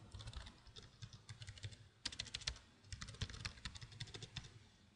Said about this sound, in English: Trying to do this on a laptop keyboard, not recommended.